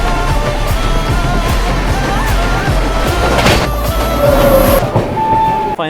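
Kaziranga Express, the Bengaluru–Guwahati superfast train, runs along the track with a steady loud rumble and repeated rhythmic wheel clacks over rail joints throughout, with a brief high squeal near the end.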